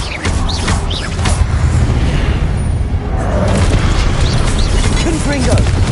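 Repeated Confringo blasting-spell explosions in the video game Hogwarts Legacy, loud booming bursts layered over dense, continuous battle noise with spell whooshes and voices throughout.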